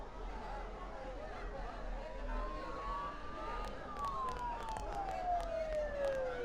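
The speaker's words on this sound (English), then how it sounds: "Don't those sirens sound really close?" Police sirens in the Persona 4 video game wail through a foggy town, a rising and falling tone sweeping under a constant background bed while voices chatter beneath.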